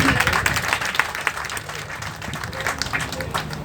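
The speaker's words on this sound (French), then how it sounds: "Un grand homme, Beydoulaye Kane, dont je vous demande d'applaudir." Audience applause at a gathering in Thiès, Senegal, with steady clapping from a crowd sustained throughout, fairly close and dense, with some voices mixed in.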